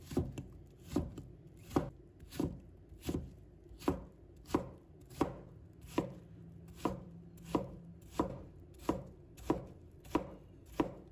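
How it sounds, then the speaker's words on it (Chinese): A kitchen knife dices winter melon into small cubes on a cutting board, with steady, evenly spaced chops, about sixteen crisp close strikes over eleven seconds, and no talking. "然后切成条。 最后切成小丁"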